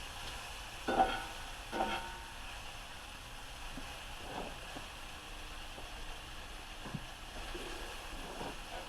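A fajita mixture is stirred in a hot pan, giving a quiet, steady sizzle broken by a few soft scraping stirs.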